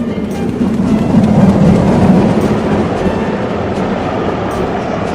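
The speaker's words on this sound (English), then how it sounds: "Engines from the other railway sometimes pull their trains." A steam engine running along rails in the Trainz railway simulator, heard as a steady, loud rolling rumble with a dense low drone and faint rhythmic rail clatter, continuous with no voices.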